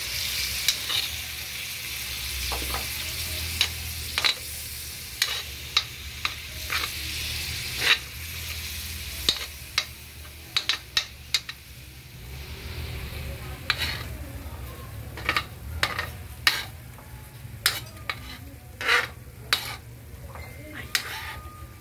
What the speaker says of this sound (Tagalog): ilagay na natin ang toyo. Tapos po haluin natin